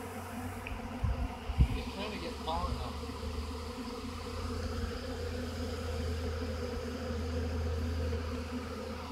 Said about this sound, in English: You think there's any bees out here in New Plymouth? Like honeybees?